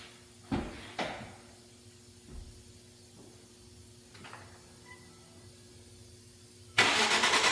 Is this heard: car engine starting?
yes